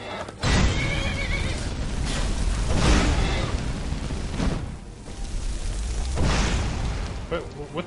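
A loud, drawn-out horse whinny in the video game Skyrim, with repeated neighing bursts over rumbling background noise and faint hoof clatter.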